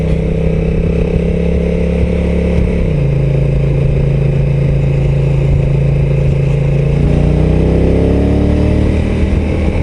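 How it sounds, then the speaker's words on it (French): A Honda NT 1100 DCT motorcycle engine in sport mode drones loudly and steadily, its pitch shifting as gears change and climbing again as the revs rise. "la moto, le moteur est encore plus bruyant vu qu'elle monte plus haut dans les tours"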